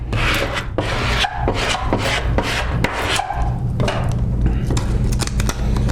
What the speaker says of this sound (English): I'm going to squeegee this down, make sure it picks up.